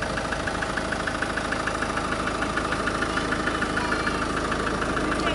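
A Ford Mondeo estate with a 2.0 TDCi diesel engine idles steadily in a showroom, a continuous even diesel clatter and hum heard close up, with no talk.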